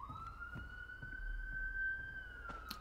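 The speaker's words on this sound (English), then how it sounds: "I heard sirens, my bad." Sirens wail far off across the city, a faint, steady tone rising and falling slightly, with soft background noise and faint knocks around it.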